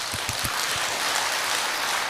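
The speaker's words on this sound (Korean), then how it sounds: "요거는 우리가 같이 박수를 한번 쳐도 좋을 내용입니다." Seminar audience applauding together, a steady wash of clapping that stays fairly even throughout.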